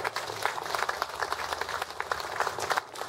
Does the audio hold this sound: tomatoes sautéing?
no